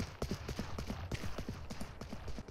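Rapid fake footsteps from Yoru's ability in the Valorant video game, a steady run of hard, evenly spaced thuds with a clopping quality, close and fairly loud, without voices.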